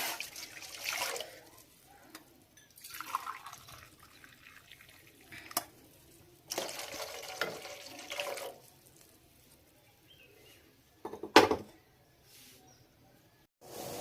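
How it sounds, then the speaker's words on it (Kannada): Water from a cup pours into a pan set on a stove, in several separate splashing bursts with quiet gaps between them and a short sharper splash near the end, with no talk. "ಇವಾಗ ಸ್ಟೌವ್ ಮೇಲೆ ಒಂದು ಬಾಣಲೆ ಇಟ್ಕೊಂಡು ಯಾವ ಲೋಟದಲ್ಲಿ ರವೆ ತಗೊಂಡಿರ್ತೀವಿ ಅದೇ ಲೋಟದಲ್ಲಿ ಎರಡು ಕಪ್ ಆಗುವಷ್ಟು ನೀರನ್ನ ತಗೊಳ್ಳಿ ಬಾಣಲಿಗೆ ನೀರನ್ನ ಹಾಕೊಳ್ಳಿ"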